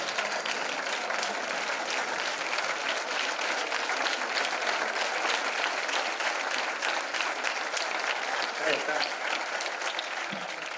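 Sustained, dense applause from a congress audience fills the hall for about ten seconds, loud and even, with no voices standing out.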